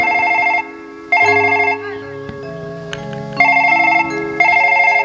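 A phone ringtone plays loud and close as a bright, repeating electronic melody, its short phrases looping several times without any voices.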